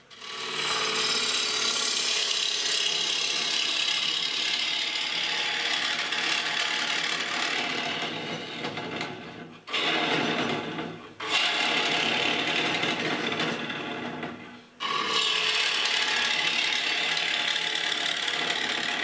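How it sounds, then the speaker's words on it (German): Wooden bowl on a lathe hollowed out layer by layer, one workpiece yielding two stacked bowls: sustained loud scraping and rasping of the cutting tool, broken by two short pauses before the cut resumes. "So wird die Schale Zwiebelschale für Zwiebelschale ausgehöhlt."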